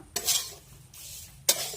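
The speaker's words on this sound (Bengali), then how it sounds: "সুজিটাকে ভাজছি" Semolina frying in a pan is stirred in two quick scraping strokes separated by a quieter sizzling pause, close and fairly loud.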